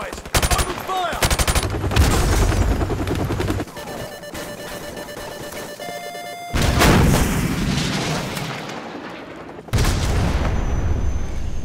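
Gunfire and heavy booms from a firefight in Call of Duty 4: Modern Warfare Remastered: loud, dense bursts of automatic fire and blasts that pause briefly, then resume, with a faint voice mixed in.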